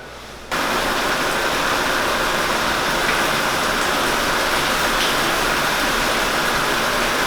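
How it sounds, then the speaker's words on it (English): Water rushes steadily into the mash equipment at a craft brewery in downtown Oxford, a loud, constant hiss that starts abruptly after a brief quiet moment and runs on unchanged, with no talking. "adjust the flow of water right here, very minutely"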